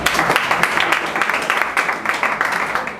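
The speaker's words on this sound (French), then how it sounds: "Applaudissez pour vous-même les amis." An assembly audience at a school cultural contest breaks into brisk, crackling applause, loud and close, with bursts of clapping rising and falling throughout.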